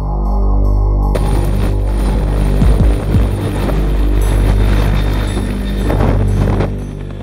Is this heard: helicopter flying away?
yes